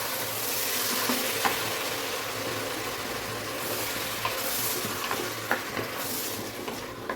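Half a kilo of tomatoes sautéing in oil in a pan, a steady, close sizzle and crackle that runs throughout, with a few faint spoon taps against the pan.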